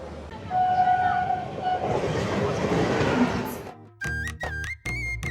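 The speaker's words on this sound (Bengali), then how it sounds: "আমাদের দার্জিলিং মেল শিয়ালদা থেকে ছেড়ে রওনা দিয়ে দিল" Darjeeling Mail departing Sealdah station for New Jalpaiguri: a loud, rumbling train roar with a brief tonal whistle early, then it drops away and is followed by a musical tune for the last second or so.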